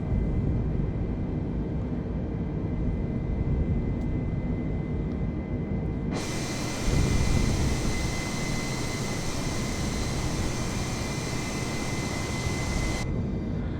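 An A320neo jet airliner climbs after takeoff in Microsoft Flight Simulator, a loud continuous engine roar that jumps brighter and fuller halfway through, then drops back near the end, with no talk.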